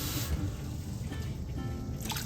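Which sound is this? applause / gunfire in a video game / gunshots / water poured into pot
water poured into pot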